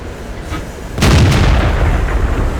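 Heavy tank cannon shot from a World of Tanks battle, one loud sudden boom with a long rumbling tail that stays heavy through the rest of the moment, no voices.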